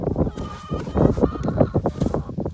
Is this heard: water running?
no